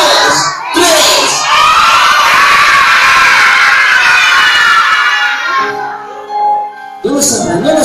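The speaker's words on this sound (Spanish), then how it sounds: "Y gritamos Elsa y decimos, una, dos, tres." Children shout together in a loud sustained group yell during a Frozen-themed kids' show, a bright crowd cheer that swells, fades and bursts again near the end.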